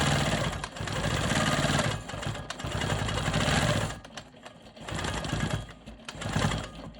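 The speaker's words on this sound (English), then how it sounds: "Now I'm going to quilt my vertical and horizontal lines." A Quilt Maker Pro 20 longarm quilting machine stitches straight lines and smoky swirls, making a loud, close mechanical whir that runs in long bursts and stops briefly between passes.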